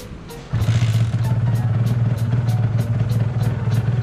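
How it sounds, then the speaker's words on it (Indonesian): A kick-started Kawasaki Ninja R two-stroke motorcycle fires up and settles into a loud, steady, buzzing idle right up close. "Kita nyalain motornya."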